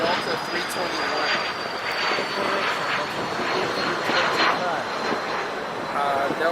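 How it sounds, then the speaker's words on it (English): Delta Airlines Airbus A321ceo jet on final approach, a steady loud engine roar with a high whine, continuous and close throughout. "We have a Delta Airlines making its final approach here to the gate here on the south side."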